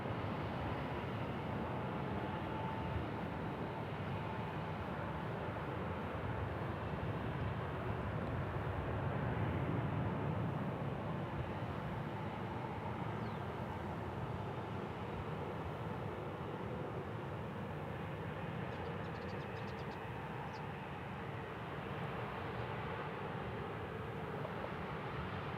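American Airlines Boeing 737-800 jet at Kansas City International Airport, a steady broadband engine roar that holds at constant loudness throughout, heard from a distance with no talk over it.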